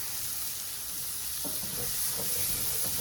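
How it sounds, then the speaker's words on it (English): Flour being stirred into melted butter with a little bacon grease in a pan, a soft steady sizzle with a few faint spoon scrapes against the pan over the last half. "we're stirring in about a tablespoon of flour"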